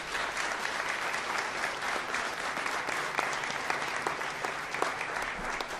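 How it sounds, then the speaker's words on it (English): Sustained applause from a crowd at an outdoor event in Loxahatchee, Florida, dense clapping at an even level throughout, moderately distant. "Let's give him a round of applause for your awesome efforts."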